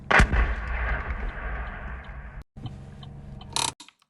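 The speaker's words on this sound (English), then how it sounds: "then we see that explosion. It looks like it's on fire, and then something detonated on the inside" A struck Russian military aircraft explodes in war footage: a sharp, loud blast opens, followed by rumbling, crackling burning and a second sharp detonation near the end, heard from a distance with cut edits.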